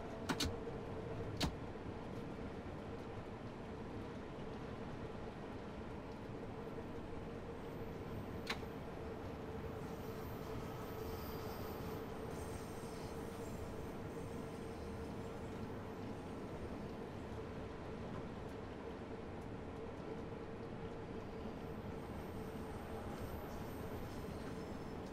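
London Underground train running in the Train Sim World 3 game, a steady continuous rumble and hum of motors and wheels on track throughout, with a couple of brief clicks near the start and no talking.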